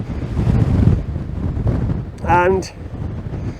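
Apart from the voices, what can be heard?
wind blowing on mountain, wind noise on microphone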